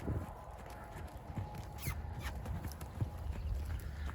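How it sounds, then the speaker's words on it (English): Hooves of a horse being ridden for the first time clip-clop at a walking pace on the ground nearby, with soft rustling and faint background noise. "This is the first time this horse has been ridden."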